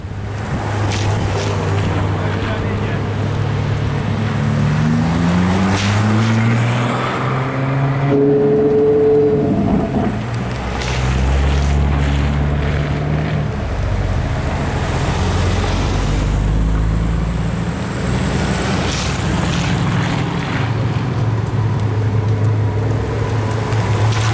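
Supercars roll in off a circuit parade lap, their engines a loud, continuous rumble with shifting, rising rev tones and steady wind-like noise throughout, with no talking.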